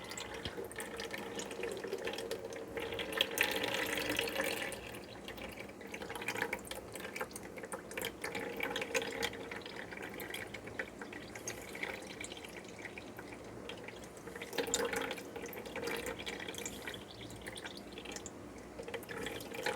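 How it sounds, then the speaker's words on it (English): Homemade elderberry syrup trickling through a kitchen strainer, a soft continuous liquid pour with small drips and splashes that swell and ease in waves, quiet and close. "It is dripping through, you can see."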